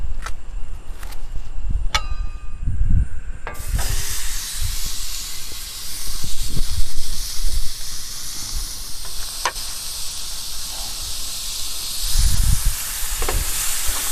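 Smash burgers sizzle on a hot griddle in a loud, continuous hiss that grows stronger after the patties go on, with occasional clicks and thumps of handling nearby.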